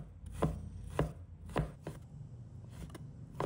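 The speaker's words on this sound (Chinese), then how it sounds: "再把它切成均匀的小粒" A knife chopping pork belly into small dice on a board: sharp, distinct chops at an uneven pace, about eight strikes over a few seconds, close but fairly soft, with no talking.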